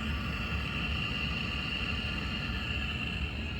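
An Aprilaire 500 humidifier runs on a furnace, a steady broadband hiss of flowing water and airflow with a faint tonal whine, continuous and even throughout with no talk.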